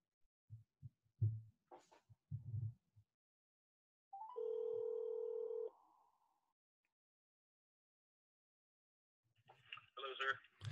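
A telephone line gives a single steady electronic tone lasting about a second and a half while dialing into a call, with soft voices talking briefly before and after it.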